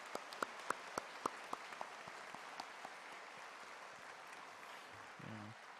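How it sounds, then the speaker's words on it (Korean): A church congregation at a Sunday evening service claps in encouragement. The crisp applause sounds from across a large room, then fades quickly to a hushed room tone within about two seconds. "격려의 박수를 하겠습니다"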